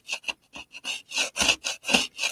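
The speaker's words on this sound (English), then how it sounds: "It's amazing what use a scraper has." A hand scraper rasps repeatedly over moulds, knocking black bits off in about a dozen quick, close strokes that grow louder and longer, with no speech.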